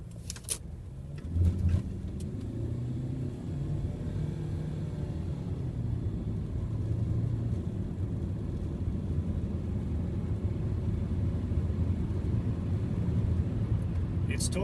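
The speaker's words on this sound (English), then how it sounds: "So let's take a look at its acceleration." A 2010 Hyundai i30 CRDI diesel car accelerating, with a steady low engine drone and road rumble that builds slightly across the run, heard from inside the cabin with no talk.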